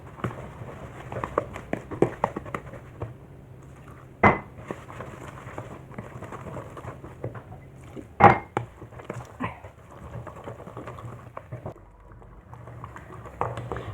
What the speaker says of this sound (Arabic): دابا غادي نبدا نخلط. كنخلطها غير بمعلقه.